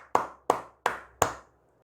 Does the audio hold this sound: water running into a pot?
no